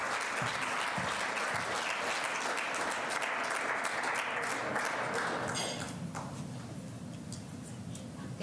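Warm audience applause greeting Julie Gray at a Taos community event, a dense steady clatter of many hands that carries on throughout and thins slightly toward the end.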